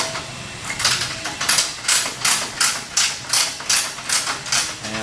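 Rhythmic metallic clicking and ratcheting as a bolt and nut are fitted on a landscape collector mounting system, a steady run of about a dozen evenly spaced mechanical ticks, close and moderately loud.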